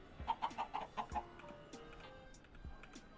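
Several chickens cluck in a quick run of about six sharp calls, then go quieter with scattered clucks and small knocks, heard fairly close.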